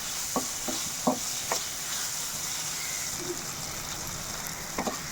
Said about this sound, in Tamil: பாருங்கள் தக்காளி ஒரு நிமிஷம் நல்லா வதங்கிடுச்சு